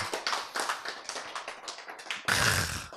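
Lecture audience clapping in a short burst of separate, fairly close hand claps, followed by a louder, denser swell of applause near the end.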